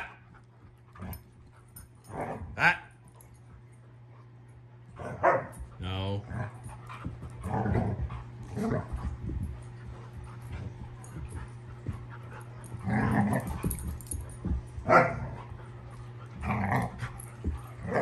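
A 4.5-month-old Irish Setter puppy barks in scattered bursts with low growls between them, close by, while a steady hum runs underneath and a person speaks now and then.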